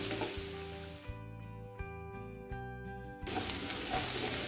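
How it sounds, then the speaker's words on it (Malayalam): Onions and ginger for a Kerala-style clam roast sizzle in a pan, a steady close hiss with a few soft stirring knocks. A hum with a constant pitch runs through the middle. "ഇപ്പോൾ കക്ക റോസ്റ്റിനുള്ള ഉള്ളിയും ഇഞ്ചിയൊക്കെ ഇവിടെ നല്ലതുപോലെ വാടി ഒരു ലൈറ്റ് ബ്രൗൺ നിറമായിട്ടുണ്ട്"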